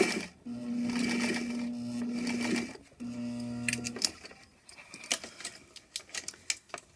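Sewing machine backstitching elastic on a dress strap: two steady runs of needle whir with a short break between them, followed by scattered clicks and knocks of fabric handling.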